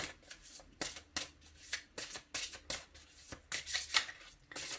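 Oracle cards shuffled by hand for a weekly reading, with repeated crisp riffling bursts, close and fairly loud, in an uneven rhythm and no voices.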